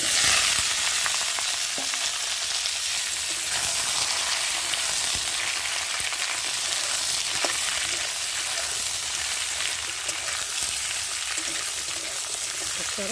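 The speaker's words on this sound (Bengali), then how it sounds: "এখন কেটে রাখা আলু বেগুনগুলোকে ভালো করে ভেজে নেব" Potatoes and eggplant fry in hot oil tempered with nigella seeds, a dense, even sizzle held close and loud throughout, with a few faint scrapes of stirring.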